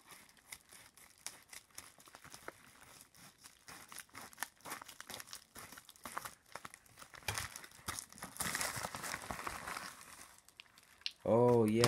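Scissors cutting open a double mailer package from eBay holding trading cards, with crinkling, tearing cuts and paper rustle building toward the end, loudest in the final seconds, with a voice briefly heard.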